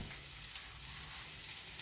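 Onion sizzles steadily in hot olive oil in a pan for beef stew, a close, even frying hiss with no breaks or voices.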